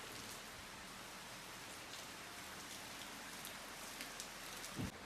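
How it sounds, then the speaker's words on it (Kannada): Heavy rain falling steadily in the evening in Wayanad during a red alert, a dense even hiss of drops on surfaces all around, faint and distant, with a brief soft thump near the end. "ಮಳೆ ತುಂಬಾ ಬರ್ತಿದೆ"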